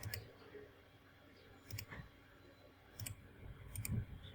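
A computer mouse clicks sharply a few times, spaced irregularly, close and crisp over a quiet room.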